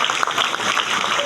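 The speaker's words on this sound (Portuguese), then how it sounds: "Pode aplaudir forte" Dense crowd clapping fills the moment at a church Bible study, steady and energetic throughout, with a hint of voices mixed into the applause.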